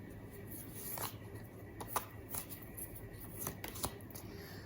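Tarot cards are shuffled and drawn by hand in a quiet room. Soft, close, papery riffles and light flicks come in short irregular bursts under a steady low background hiss.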